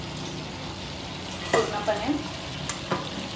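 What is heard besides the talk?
chicken frying in a pan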